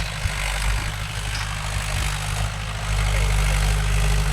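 A Mahindra 575 DI tractor engine idles steadily nearby, a low, constant diesel throb with a slight rise in level toward the end and no voices.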